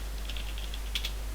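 Computer keyboard clicks as a terminal command is entered, a quick run of light close keystrokes with a couple of louder taps near the end, over a steady low hum.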